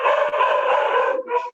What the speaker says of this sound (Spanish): Estaba un perro ahí, qué susto.